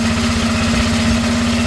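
A motorcycle engine runs steadily and close after a Spectro clutch bowl is fitted, giving a loud, even idle with a rhythmic low thrum and a constant hum.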